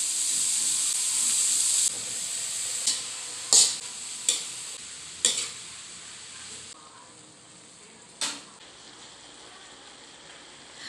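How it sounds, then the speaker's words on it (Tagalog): Bottle gourd sautéing in a pan of leftover frying oil from meat and saba banana, a steady loud sizzle with several sharp stirring scrapes and clacks, easing to a softer hiss. "Iginisa ko na po dito sa pinagprituhan ko po ng karne at ng saging na saba."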